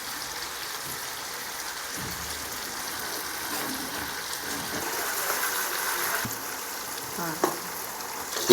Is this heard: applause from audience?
no